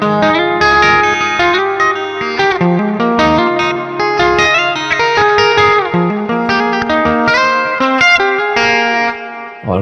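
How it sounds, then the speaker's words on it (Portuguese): Fingerpicked electric guitar played through the Neural DSP Gojira plugin with reverb and delay, a steady flow of ringing notes and echoing tails, loud and close with no talking. "Quando eu tocar dedilhados, ele aparece junto, né? O reverb e o delay,"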